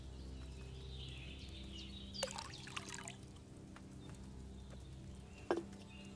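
Wine pours into a cauldron in a video game, a soft liquid splash and trickle over a quiet, low background hum, with a couple of sharper clicks.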